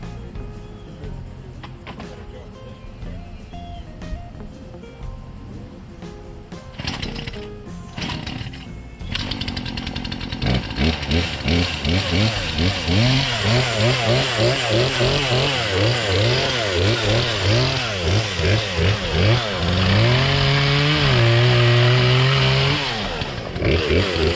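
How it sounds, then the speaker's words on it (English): A loud electric chainsaw whines steadily and close, its pitch rising and dipping as it bites into pallet wood, after a quieter stretch of rattling and handling noise. "The pretend chainsaw is electric."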